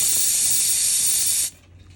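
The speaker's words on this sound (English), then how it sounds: "So you can hear how that one's spitting out the moisture, and you just want to pull it until it's done." A truck air tank drain valve vents with a loud, steady hiss of air and moisture for about a second and a half, then cuts off abruptly, leaving faint background noise.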